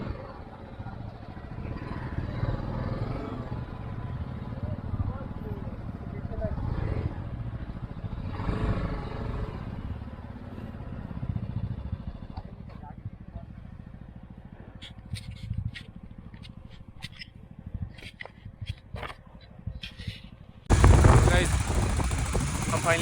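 Motorcycle engines running on the high mountain road up to Umling La pass in Ladakh, a steady low rumble with clatter, loud and close, then a sharp burst of wind noise near the end.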